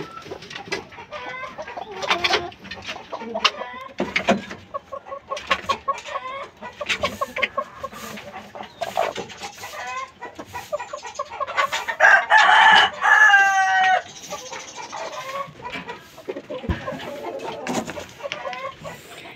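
Gamecock rooster and hens on a fighting-cock breeding yard, clucking steadily with a loud nearby crow partway through, close and clear with brief scattered bird calls.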